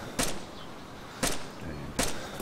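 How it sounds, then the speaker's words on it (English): Gunfire in a video game: three sharp, loud shots spaced roughly a second apart, with game ambience between them and no talking. "Shots, fuck, they're shooting at us."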